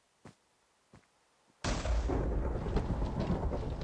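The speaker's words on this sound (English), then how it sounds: "Oh, it's thundering, alright." Thunder in Minecraft: two faint soft knocks, then a sudden loud crack of thunder that breaks into a sustained, broad rumble lasting several seconds, with no talking.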